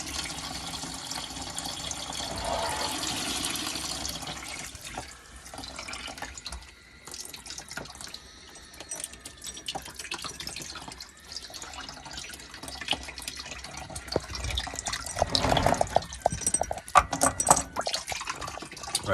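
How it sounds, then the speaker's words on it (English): Water draining from a domestic boiler during a filling loop replacement, a faint continuous running and splashing flow with trickling and gurgling, fairly quiet and steady, growing busier near the end, with no voices. "I'm draining the boiler down."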